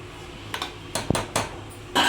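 A spoon scrapes and knocks against a cooker pot while gongura and coriander are stirred: a few sharp metallic clinks and scrapes, close and isolated.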